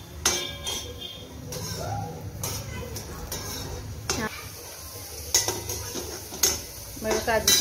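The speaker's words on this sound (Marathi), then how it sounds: "एक अर्धा चमचा तेल घातलं आहे मी, आणि त्याच्यावर घालते हे तुकडे केलेले एक 10-15 काजू" Cashew pieces stirred in half a spoon of oil in a kadai, with scraping spoon strokes and metallic knocks against the pan over a faint sizzle, close by and irregular.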